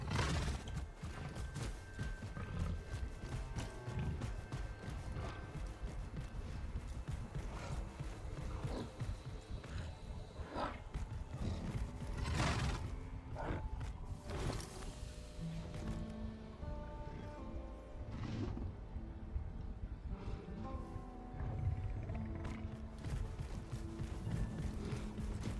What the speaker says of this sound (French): bah oui, c'est un cheval. C'est mon petit poney.